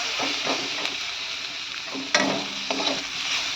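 Onion, tomato, ginger, garlic and green chilli fry in hot oil in a pan with a close, bright, continuous sizzle, punctuated by a few sharp clinks and scrapes of stirring.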